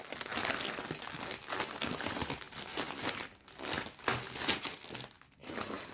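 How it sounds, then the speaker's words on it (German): Crinkly crackle-foil packaging around a cross-stitch kit is handled and opened, giving loud, continuous close-up rustling and crackling in uneven bursts throughout. "es raschelt wirklich, wirklich stark, aber das ist so eine richtige Knisterfolie"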